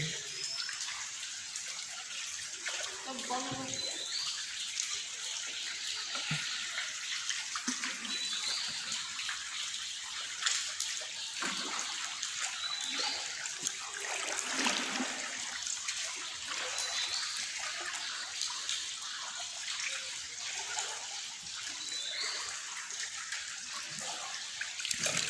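Continuous rushing river water, loud and close, a broad steady roar with splashing; a faint voice surfaces briefly.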